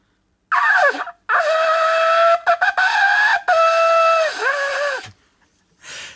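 A voice imitates a horn with strident, tonal honking blasts, a short one and then several longer sustained notes with pitch bends, loud and close, broken by brief gaps.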